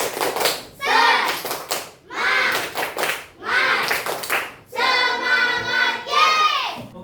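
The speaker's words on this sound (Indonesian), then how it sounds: "kita tepuk semangat dulu ya" A classroom of Indonesian schoolchildren performs a 'tepuk semangat' spirit clap, chanting in unison with bursts of rhythmic hand claps, close and loud, in short repeated phrases separated by brief pauses.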